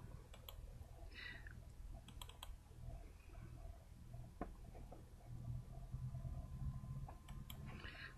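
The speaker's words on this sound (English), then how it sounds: "So I'll type in uca.edu." A web address being typed on a computer keyboard into a Firefox browser, faint scattered keystrokes and clicks over a low, steady room hum, with no talking.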